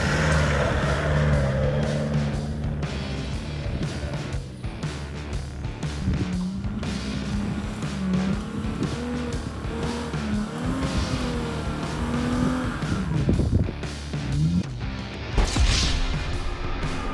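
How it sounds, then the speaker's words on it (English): An N70 Toyota Hilux 4WD engine labours loudly and continuously while climbing an offroad hill, its revs rising and falling with bursts of throttle and occasional tyre scrabble, with no talk. "guides the N70 Hilux spectacularly up the hill climb"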